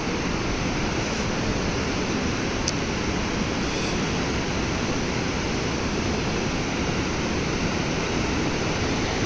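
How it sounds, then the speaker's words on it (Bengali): The Madhuganga river rushes past on a mountain trek, a loud, steady broadband roar of fast-flowing water filling the whole stretch without pause. "পাশে বইছে মধুগঙ্গা। আওয়াজ মেবি পাওয়া যাচ্ছে, কি গতিতে বইছে।"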